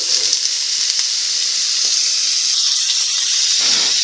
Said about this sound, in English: So here we're gonna add the tablespoon of oil and then we're gonna add the onions.